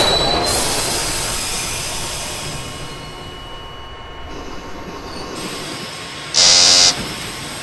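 An R40M subway train on the H line to Rockaway Park in the OpenBVE simulator, running with a loud steady rumble and wheel squeal, plus a brief high electronic tone near the end.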